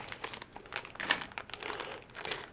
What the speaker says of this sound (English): This is another one with a bag inside a bag. You could hear it, it's extra crinkly.